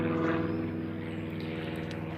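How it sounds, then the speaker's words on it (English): Noisy propeller plane drones overhead above a hiking path on the Ridgeway, a loud, steady, continuous engine hum filling the whole stretch with no talk. "And a very noisy plane."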